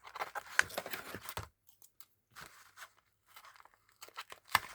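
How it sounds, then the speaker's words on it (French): Scissors snip and crinkle through the packaging of a Pokémon card tripack from the Flammes Fantasmagoriques set, in short close bursts separated by quiet pauses, ending with one sharp snip. "est-ce que je vais avoir encore besoin de mes ciseaux? Je pense effectivement."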